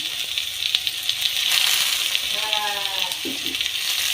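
Vegetables frying in a pan for a green bean and potato palya, giving a steady, close hiss of sizzling oil throughout, with a voice briefly speaking over it.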